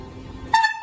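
A C14 commuter train departing Kista sounds its horn near the end, a short bright tonal blast cutting in over low rumbling ambient noise.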